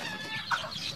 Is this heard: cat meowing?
no